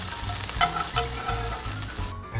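Margarine melts and sizzles in a skillet, a soft, steady frying hiss close by with a couple of light scraping or tapping touches and a low hum underneath.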